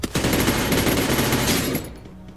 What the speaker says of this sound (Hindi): ये बिग साइड से फायरिंग हो रही है